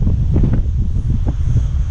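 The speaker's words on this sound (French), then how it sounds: "Il y a du vent, hein." Wind gusting across the salt pans near Alcúdia in the Balearics, a steady low rumble of buffeting against the microphone with no voices.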